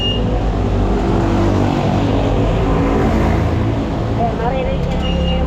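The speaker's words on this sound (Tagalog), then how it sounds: "maririnig niya naman yung mga sasakyan" Road traffic in Baliwag, with a continuous loud drone of passing vehicles and engine rumble close by, steady throughout with faint higher whines on top.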